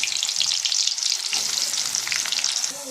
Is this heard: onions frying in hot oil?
yes